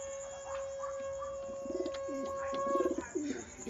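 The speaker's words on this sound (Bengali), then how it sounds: "দেখো এই পায়রাটা 12 ঘন্টা ওড়ে" Pigeon cooing from a clipped-wing domestic flying pigeon, soft repeated low coos near the microphone, with a steady high tone and faint background chirps.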